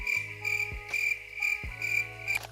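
Crickets chirp steadily in close, repeating bright pulses, with a low soft rumble underneath and no voices.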